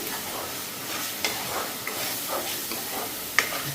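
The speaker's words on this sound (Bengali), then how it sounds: "মশলাটা ভালো করে ভেজে নিই" Spices and salt frying in a pan, a soft continuous sizzle and hiss up close, with occasional clicks and scrapes as they are stirred.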